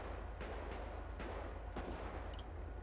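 Gunfire in GTA 5 roleplay: several sharp, distant-sounding shots pop at irregular intervals over a dense, steady background rumble, with no talking.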